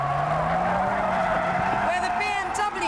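A Mercedes skids across an empty airfield, its sustained tire squeal and engine note loud and close, rising in pitch near the end, with a voice speaking over it.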